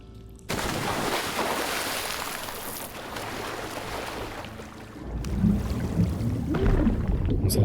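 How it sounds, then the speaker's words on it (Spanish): A character in the Shadow of the Tomb Raider video game drops into water, giving a broad splash and rushing wash that settles into churning, bubbling water near the listener, with no voices. "Ah, ok, tengo que caer al agua."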